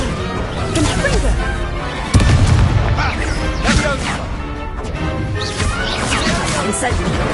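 Loud blasting-spell explosion from the Hogwarts Legacy video game, with a sharp booming impact about two seconds in, set against a dense, continuous din of game combat effects and music.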